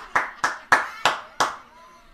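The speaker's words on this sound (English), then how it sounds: "Everyone's clapping." Five sharp, evenly spaced hand claps from a group of people in a music recording, loud and close, with a faint voice alongside.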